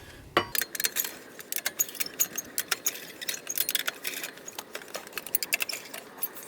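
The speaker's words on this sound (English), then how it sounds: "Take your 4-away with a 7/8 socket size and spin them back on." Lug nuts are spun onto a 2004 GMC Yukon Denali wheel with a 7/8 socket on a four-way wrench, giving close, irregular metallic clicks and rattles throughout, with no talking.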